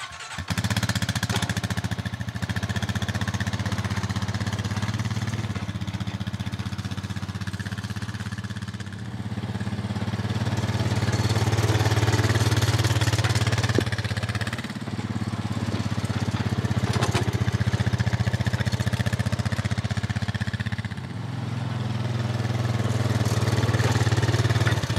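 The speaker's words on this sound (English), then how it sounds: "pull this roller behind the four-wheeler on the fresh dirt I just put down" A four-wheeler ATV engine drones steadily and loudly for the whole stretch, rising and falling slightly in pitch as it tows a homemade lawn roller over freshly spread dirt in a yard.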